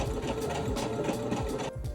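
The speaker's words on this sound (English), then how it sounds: "we're going to sew the shoulder seams first" Sewing machine running steadily while stitching the shoulder seams of a pajama top, a continuous close whirring drone with a rapid needle rhythm throughout, no talking.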